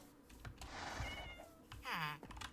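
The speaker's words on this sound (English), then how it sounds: "I heard a cat." A cat meows in the Minecraft video game, a single drawn-out meow preceded by faint purring or chirping sounds, fairly close and quiet, alone without talk.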